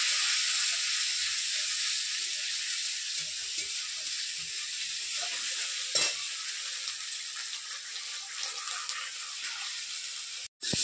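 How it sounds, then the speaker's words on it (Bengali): Spice paste frying in oil in a pan for a village-style Bengali doi katla fish curry, a steady bright sizzle with stirring scrapes throughout and a brief sharper burst midway, no voices. "মশলা দেখুন খুব সুন্দর করে ভেজে নিয়েছি, তেল ছাড়তে শুরু করেছে।"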